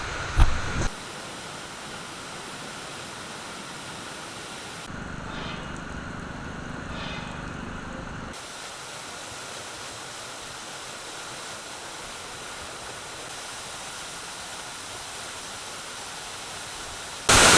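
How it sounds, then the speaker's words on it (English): Strong waterfall of a fountain in Rome, a steady broadband rush of falling water that holds evenly throughout, briefly thickened by a lower rumble midway, with no talk over it. "This is the fountain, this is the waterfall. The waterfall is very strong."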